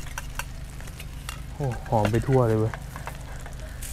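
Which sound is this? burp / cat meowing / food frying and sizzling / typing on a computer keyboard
food frying and sizzling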